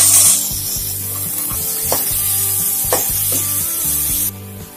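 Chickpeas sizzle steadily in a hot pan with onions while a spoon scrapes and stirs, with a few sharper knocks against the pan.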